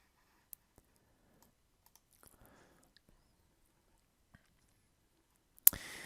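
A computer mouse clicks faintly in a quiet room, with a few sparse, soft clicks spread apart and a sharper, louder burst near the end.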